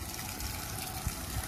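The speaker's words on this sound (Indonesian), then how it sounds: "Jadi air masuk menuju ke bawah, naik ke atas, maka keluar dari sini pipa pembuangan." Water running out of the drain pipe of a 165-liter filter tank that treats rusty, smelly water, heard as a steady close gushing flow with faint low gurgles throughout.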